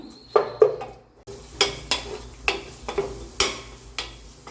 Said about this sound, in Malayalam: തക്കാളിയും പച്ചമുളകും ചേർത്തിട്ട് നന്നായിട്ടൊന്ന് വഴറ്റണം